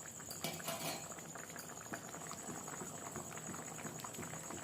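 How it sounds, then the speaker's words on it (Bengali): Lentil fritters simmer in a pointed gourd curry, a close, steady bubbling and popping of boiling liquid with no talk. "দিয়ে 1 মিনিটের মতন আমি এখন এটাকে ডালের মুসুরির ডালের বড়াটা ফুটাই নেব"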